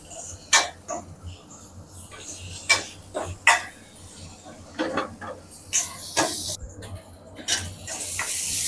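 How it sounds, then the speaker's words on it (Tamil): Capsicum and onion are stir-fried in a pan over a high flame for chicken manchurian, with irregular sharp spatula clatters and scrapes over a steady frying hiss, close by. "நல்லா ஹை ஃப்ளேமில் வச்சு நல்லா கிண்டி விடணும்"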